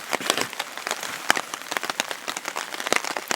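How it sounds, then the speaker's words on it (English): Rain patters steadily on a campsite tarp during an Algonquin Park canoe trip on the Petawawa River, a dense crackle of many close drops with occasional louder individual hits and no voices. "it's still raining"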